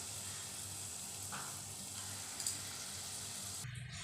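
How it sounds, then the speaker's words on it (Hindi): Banana and wheat flour gulgule frying in oil over a low to medium flame, giving a steady, soft, fine sizzle throughout with no talking. "इन्हें हमें लो टू मीडियम फ्लेम पर फ्राई करना है"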